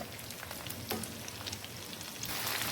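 Continuous crackling sizzle of chicken frying in a pot for biryani, fine irregular pops with a brief stirring scrape, steady and close, no voice.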